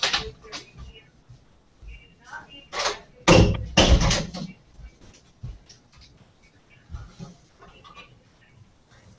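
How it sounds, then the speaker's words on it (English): An office door being locked: a few sharp clunks and clicks from the handle and lock mechanism in a quiet indoor room, close by and moderately loud, with fainter rustling and small knocks around them. "Let me just lock my office door."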